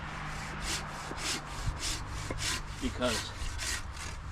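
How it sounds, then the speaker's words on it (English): A small folding pruning saw cuts through a small tree limb, giving about a dozen steady rasping back-and-forth strokes at an even rhythm, close and moderately loud, with a brief spoken word. "saws cleanly with smaller limbs and does a nice job"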